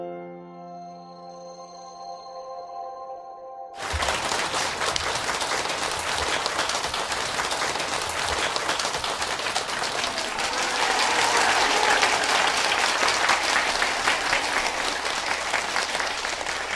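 An audience bursts into loud, sustained clapping after a short tonal passage, the applause dense and even and swelling slightly toward the end, with no talk over it.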